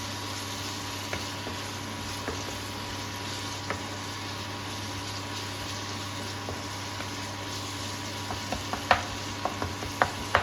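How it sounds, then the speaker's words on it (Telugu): Capsicum cutlet mixture sautés in a pan, giving a faint steady sizzle with occasional soft scrapes and clicks of stirring that grow a little more frequent toward the end. "కొంచెం దీని పచ్చివాసన పోయి మంచిగా సాటే చేసుకోవాలి"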